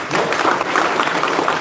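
Lecture audience in Nashik bursts into dense, continuous applause, loud and even throughout the short burst, with a faint voice underneath.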